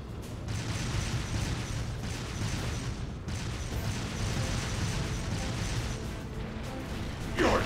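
Rumbling armored tanks and booming artillery fire from Craig the Red's 4th Armored Division in the game Trails of Cold Steel 2, a continuous dense roar with a short break and a sharp burst at the end.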